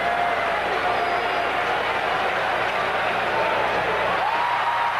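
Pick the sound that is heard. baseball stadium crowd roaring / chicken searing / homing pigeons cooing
baseball stadium crowd roaring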